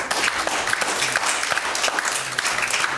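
A church congregation claps hands together at the close of a Sunday morning service, with a busy, even crackle of many hands at moderate loudness and no voices on top.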